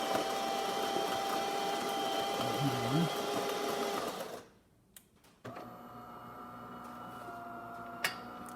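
A steady mechanical whir and hum of a DeLonghi espresso machine brewing after a full tune-up, dropping out briefly before a quieter hum resumes, with occasional clicks.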